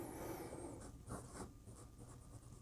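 A Wing Sung 698 fountain pen with a fine nib scratches across paper in short, faint strokes, close up with a steady quiet background hiss and no talk.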